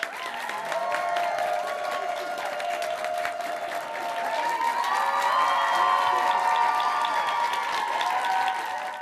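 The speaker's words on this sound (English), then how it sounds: "let's give them a round of applause" Studio audience applauding at a high school quiz show between Classical and Lincoln, sustained loud clapping with some cheering and scattered shouts, swelling slightly midway.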